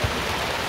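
Heavy rain pours onto a football field during a Rajawali Risa Cup 2022 match, a dense, steady hiss with no other sound standing out.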